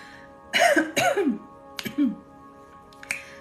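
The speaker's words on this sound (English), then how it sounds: "you might want to cough here." A few short coughs, two close together, then another pair after a pause, ending with a faint click.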